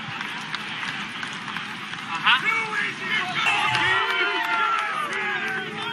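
Golf gallery at the 2016 Ryder Cup, a steady murmur of many voices with scattered calls and chatter, moderately loud and continuous throughout.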